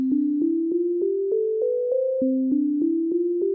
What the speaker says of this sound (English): And if you use multiple pitches, you get a scale. So this is the one we're all familiar with.